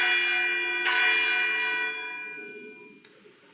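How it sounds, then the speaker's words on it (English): A ringing bell strike with long humming overtones decays slowly, then a second, sharper clang comes in near the end. "Somebody clanging some bells?"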